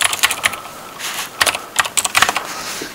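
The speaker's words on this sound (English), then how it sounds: "I am using my old keyboard because I can't get used to the Razer one." Rapid clicking keystrokes on an old computer keyboard, irregular bursts of sharp taps with short pauses, close and fairly loud with no voice.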